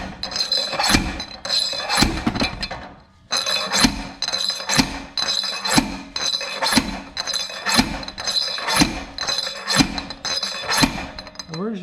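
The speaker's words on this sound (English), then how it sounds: "all we're doing is using it kind of like a slide hammer." A metal pipe is used as a slide hammer to drive a part onto a Toyota Tundra axle shaft, giving a steady series of sharp metallic clanks about once a second, close by, with one short pause.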